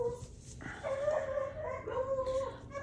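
Dogs barking at a neighbor's dog, heard as repeated whiny, tonal barks and yips at moderate distance, continuous through the clip over a busy background.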